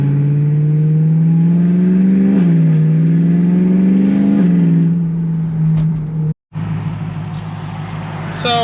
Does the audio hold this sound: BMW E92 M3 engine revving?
yes